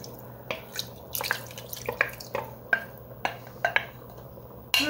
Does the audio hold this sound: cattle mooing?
no